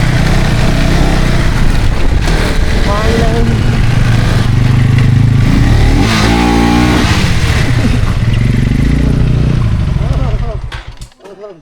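An adventure motorcycle ridden on a hilly route roars continuously under heavy wind buffeting, its engine droning loud and close, with a voice briefly audible, before the noise cuts off at the end.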